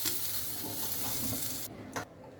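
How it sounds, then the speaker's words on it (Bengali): Potatoes frying in oil in a kadai, a steady loud sizzle that cuts off abruptly near the end, followed by a brief clatter and quieter background. "এবার আলুগুলো ভালো করে ভেজে নেব।"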